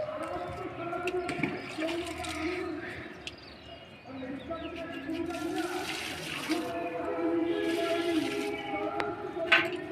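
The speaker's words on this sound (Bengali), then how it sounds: "গাছ মধ্যে একটু বেশি করে জল দিয়ে দিলাম" Water is poured generously onto dry, parched soil around garden plants, including a lemon tree, a steady splashing under a person talking throughout.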